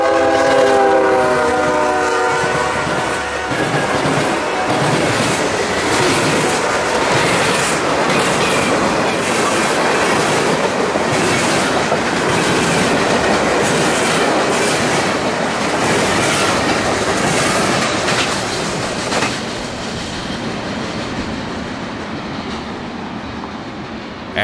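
Norfolk Southern freight train 151 rolls past, led by a GE ES44DC locomotive, opening with horn tones before a loud, steady rumble and rhythmic clatter of cars that lasts throughout.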